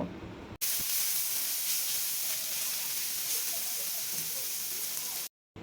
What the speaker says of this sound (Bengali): এখন এই সবগুলো একটু হালকা করে ভেজে নিব